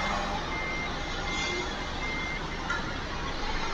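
A lorry in Euro Truck Simulator 2 gives off reversing beeps over a constant low truck engine drone, with the steady alarm tone carrying through the whole stretch.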